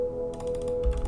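Computer keyboard keys, the bracket keys, are tapped in a few quick close clicks while playing the Army Men RTS game, over a steady electronic hum with no voices.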